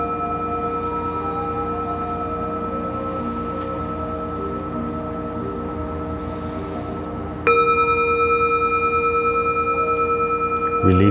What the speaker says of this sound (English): Just let the sound of the bell flow through your body.